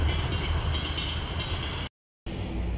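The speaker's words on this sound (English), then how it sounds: "The train is coming." A train pulls into a small station, giving a steady, loud rumble of rolling wheels and engine that runs on with a brief cut partway through.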